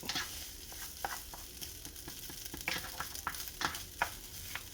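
Cooked rice stir-fried in a hot pan for Chinese fried rice, a steady sizzle punctuated by repeated scraping and tapping as a spatula breaks up lumps, close and busy with no talking.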